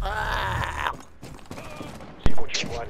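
Gunfire bursts from a gun in a video game, a rapid volley early on and a sharp loud shot near the end, under excited talking.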